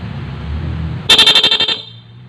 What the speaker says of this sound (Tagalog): Isang busina, no, stock horn.